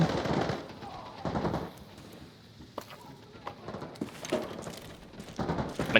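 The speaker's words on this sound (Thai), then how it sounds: "มันยิงกันอยู่" Bursts of automatic gunfire in the video game Arena Breakout: Infinite, with several short volleys and scattered single shots at moderate distance. Some have a muffled, indoor quality.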